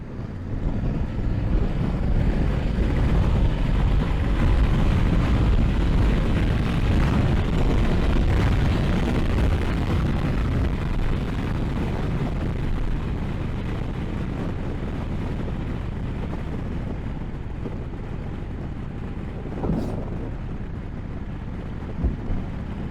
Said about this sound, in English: Does not have a windshield in front, so I'm not very protected. The wind is striking me in the front,